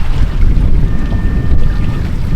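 A sailboat runs far downwind near Culebrita in the Spanish Virgin Islands, with a loud, steady rush of wind and washing water close by and no talking.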